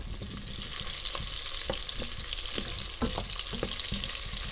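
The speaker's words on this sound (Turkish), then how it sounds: "Şimdi soğanlarımızı güzelce kavurduk böyle. Biraz daha kavuralım." Onions sauté in butter in a pan, a steady crackling sizzle with repeated sharp scraping stirs at irregular intervals, close and clear with no talking.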